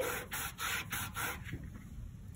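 Glitter being rubbed into tape with repeated rhythmic scrubbing strokes, about five brisk rasping passes close up, then softer and trailing off, with no talking.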